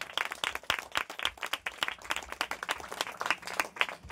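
A church congregation claps in a brief, uneven burst of sharp hand claps during a sermon, fairly close and loud for a few seconds.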